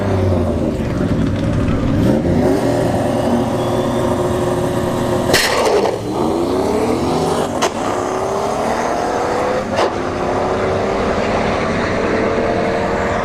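Drag racing cars at ShowTime Dragstrip, including a Turbo New Edge Mustang, launch and roar down the strip with loud sustained engine drones and sweeping pitch changes as they pass, several sharp bursts cutting through, with no talking.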